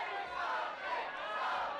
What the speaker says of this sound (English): The crowd firmly cheering on Jake something.